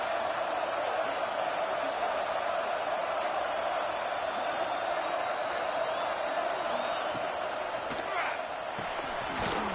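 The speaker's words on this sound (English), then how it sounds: "Listen to the crowd energy here in the early going." A stadium crowd in a college football video game roars steadily and loudly throughout, a dense, unbroken wash of cheering with no clear pauses or voices standing out.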